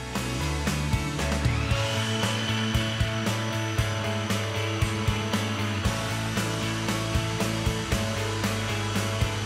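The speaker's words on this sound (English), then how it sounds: "lid goes on, and we're going to blitz it until it's silky and smooth" A kitchen blender whirs continuously as it blitzes ricotta and orange to a smooth purée for a tart. The motor drone is loud and steady, with a rising whine and a rapid rattle through it, and no voices are heard.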